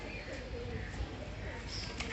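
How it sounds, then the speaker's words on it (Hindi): Rooftop house pigeons, including males, give soft low cooing calls over a busy background murmur, fairly close and continuous. "ये हमारे छत के कबूतर हैं दोस्तों।"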